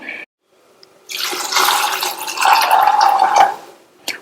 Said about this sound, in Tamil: மொச்சம் முங்குற அளவுக்கு தண்ணி சேர்த்தாச்சு.